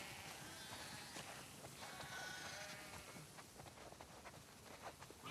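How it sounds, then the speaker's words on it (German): A flock of sheep bleating in The Last of Us Part 2 video game: many overlapping bleats, near and far, over a dense, steady layer of shuffling and trampling hooves with no talking. "Wow, das sind viele Schafe."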